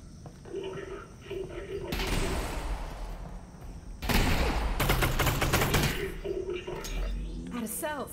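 Rapid gunfire bursts in the video game Half-Life: Alyx, loud volleys of shots separated by quieter stretches of mechanical clicks and game sounds, with no talking.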